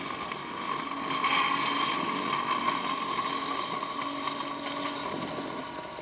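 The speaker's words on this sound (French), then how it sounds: "Alors je relance le moteur de coupe" Cutting motor of a Mammotion Luba Mini AWD robot lawn mower spinning up and holding a steady whirring drone with a tonal whine, fairly loud and close, running alone.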